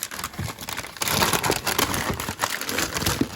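Christmas present wrapping paper being torn and unwrapped, with steady close crinkling and crushing throughout and louder ripping bursts after the first second.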